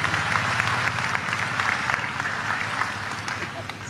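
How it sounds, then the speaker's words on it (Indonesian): An audience at a religious lecture by a cleric claps steadily in a dense, continuous patter, with voices murmuring underneath throughout. "Tepuk tangan untuk beliau, nggak apa-apa."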